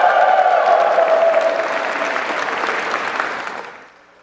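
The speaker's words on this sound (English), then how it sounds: "let's give one more round of applause for the newlyweds." Round of applause from guests for newlyweds at a wedding reception, dense clapping with light crowd noise that gradually fades out over about four seconds.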